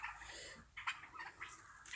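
Leghorn chickens scratching about in a coop, giving off soft, steady clucking and chattering with a few brighter calls rising above a low, continuous background hum.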